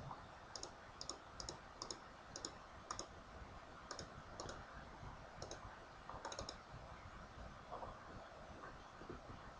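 A computer mouse clicks while image-processing software is in use, with a few crisp clicks, some in quick pairs, spread over the first seven seconds. The clicks are quiet and close, set against a low steady background hum.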